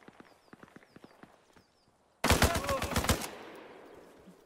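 Gunfire in the video game Arma Reforger, aimed at a BTR armored vehicle: light scattered taps give way to a loud, close burst of about eight rapid shots, then a fading rumbling tail.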